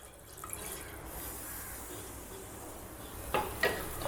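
Water is poured into a pot of mutton for a pepper mutton gravy, a steady low wash of pouring that ends in a few louder splashy bursts. No one speaks.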